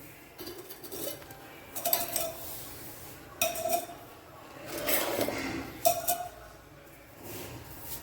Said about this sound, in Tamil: பொரிக்கன் சட்டி ஏற்றியாச்சு.